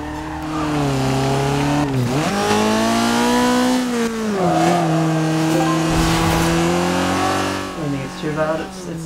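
A Mazda MX-5 Miata on a budget drift build in Forza Horizon 2 revs hard up a hill, engine note rising and dipping with tire squeal and skidding as it slides, loud and close, with brief speech over it.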